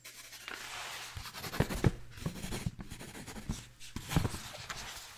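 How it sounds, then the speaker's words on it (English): Pen scratching across paper in short, uneven strokes with brief pauses, close and soft in a quiet room, with no talking. "Writing on paper."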